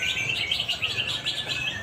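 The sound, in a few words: canary singing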